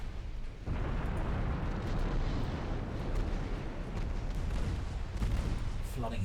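Battleship naval gunfire in the Ultimate Admiral Dreadnoughts video game makes a dense, continuous roar of booming salvos and rumbling explosions that stays loud and steady throughout.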